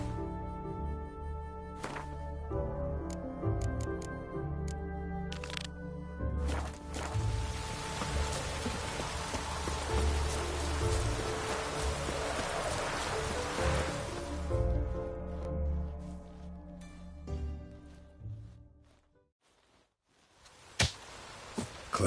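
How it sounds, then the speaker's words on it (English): Steady rain hiss in the video game Witcher 3, layered with game music and effects, building to a dense wash mid-scene before thinning out and dropping away near the end. "Rain, and here it is"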